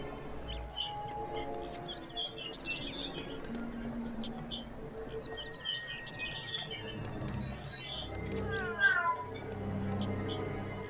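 A cat meows in the Lego Harry Potter Years 1-4 video game, a few faint calls set among busy game music and sound effects.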